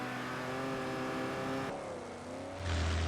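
A car engine hums steadily while driving in Forza Horizon on Xbox 360, a sustained, fairly quiet drone with a shifting pitch and a swell in revs near the end, with no voices.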